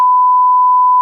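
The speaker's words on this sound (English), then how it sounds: "We can bleep this oh, out." A single steady censorship bleep, a loud pure tone that runs unbroken for about a second and covers a spoken name.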